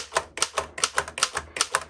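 Keys strike sharply on a 1911 Royal Standard No 1 typewriter, about nine crisp clacks in a quick, fairly even rhythm, close and clear with no voices.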